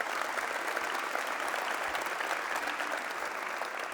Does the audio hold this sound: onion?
no